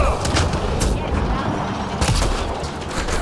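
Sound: gunfire in video game Mass Effect: Andromeda

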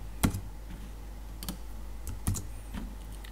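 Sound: typing on a computer keyboard

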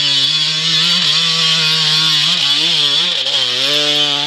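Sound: enduro motorcycle engine running

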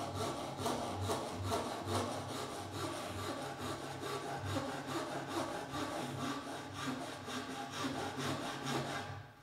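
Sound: hand saw cutting wood

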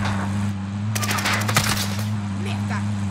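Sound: gunfire in Call of Duty Warzone video game

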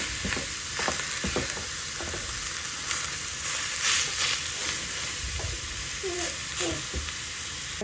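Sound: meat sizzling as it is sautéed in a pan

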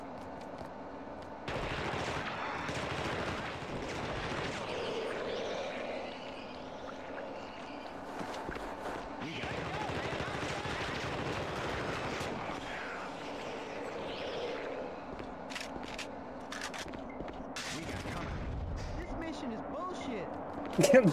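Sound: gunfire in The Thing video game

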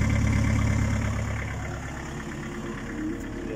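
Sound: Mitsubishi L200 DiD engine with Borg Warner big turbo running

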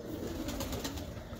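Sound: home-bred pigeons flying and cooing

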